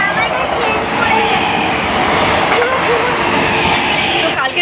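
Steady rumble and rattle of a moving local train heard from inside an empty ladies' compartment, loud and continuous throughout, with no talking.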